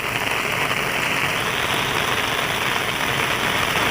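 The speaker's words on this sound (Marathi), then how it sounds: "एवढा पाऊस येतोय ना जोरात" Heavy rain falls hard under an overcast sky, a loud, steady, unbroken hiss close by, with no talking.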